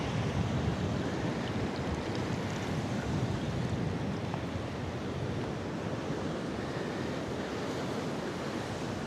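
Strong ocean waves at French Beach near Karachi roar as steady, loud, broadband surf throughout, with wind buffeting the microphone and no voices.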